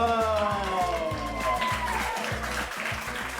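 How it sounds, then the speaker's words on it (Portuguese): A class of older adult students in a school session applauds for a classmate, steady mixed clapping throughout, with a low rhythmic music-like pulse beneath and some voices. "Palmas aí pro João"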